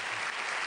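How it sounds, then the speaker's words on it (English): A brief, dense burst of studio audience applause at a TV game-show taping for Bullseye, loud and steady from start to finish. "Give them a round of applause"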